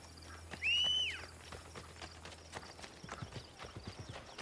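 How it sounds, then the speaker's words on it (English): Horse hooves clip-clop steadily in Assassin's Creed: Brotherhood, a soft rhythmic trot beneath ambient game sound, with a sharp whinny early on. "that horse is slow. I run faster than he does"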